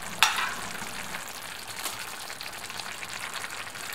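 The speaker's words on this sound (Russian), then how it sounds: "Пусть она кипит у нас до готовности." Stewed zucchini pieces simmer and bubble in a pan on the stove, a soft, continuous crackling sizzle with a brief louder clatter at the start, quiet and close.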